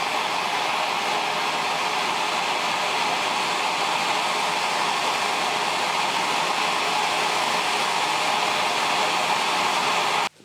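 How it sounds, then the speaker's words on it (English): Blowtorch heating a rounded-off nut or bolt: a loud, steady, broadband roaring hiss that holds unchanged for about ten seconds, then cuts off abruptly. "apply some heat to the nut or the bolt using a blowtorch"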